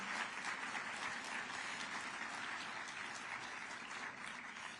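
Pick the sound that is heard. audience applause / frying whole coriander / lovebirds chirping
audience applause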